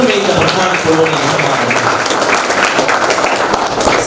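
An audience at an annual scholarship distribution ceremony of a social welfare trust claps steadily and loudly to welcome the chief guest, with a voice speaking over the sustained applause.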